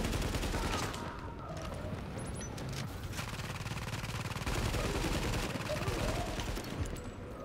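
Gunfire rattles in the video game The Division as dense, continuous automatic bursts and overlapping shots fill the whole stretch, loud and close, under a busy game soundscape.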